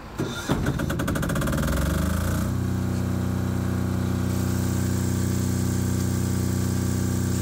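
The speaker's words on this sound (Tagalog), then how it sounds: "Dapat mabuhay yung ating generator." Standby generator cranking and firing up during a power outage: rapid starter chatter and rising revs for about two seconds, then settling into a steady, loud, humming idle with no talk.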